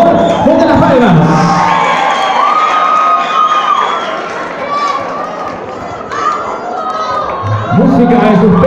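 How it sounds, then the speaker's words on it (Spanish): Audience at a Miss and Mister Cachimbo 2017 pageant applauding and cheering loudly, with crowd shouts and chatter swelling and fading in a busy, reverberant hall, with an announcer speaking over it. "Fuerte los aplausos, por favor."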